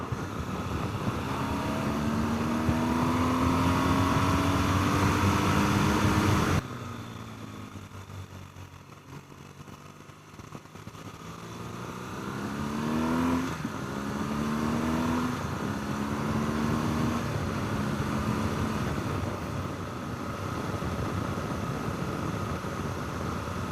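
Motorcycle riding on the road, a steady engine drone with wind rush, shifting pitch and gears partway through, heard close from the rider's position with no talk.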